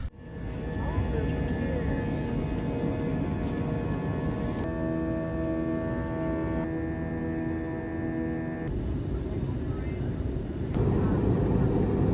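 Cabin drone of an airplane in flight, a steady loud hum with tonal engine lines that shift in pitch partway through, continuous and close throughout.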